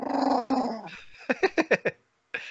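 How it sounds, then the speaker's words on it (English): A dog growls low and then lets out a quick run of five short yips or barks, close and fairly quiet, followed by a brief final whine. "Does the dog got something to say?"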